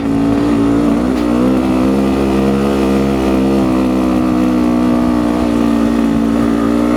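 A Jawa motorcycle labors up a very steep hill in first gear on a touring route to Dieng, its engine droning loud and close in a constant, strained tone throughout with no letup.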